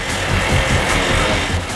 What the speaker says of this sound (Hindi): हम तुम्हें कुछ बाइक्स की आवाजें सुनाएंगे।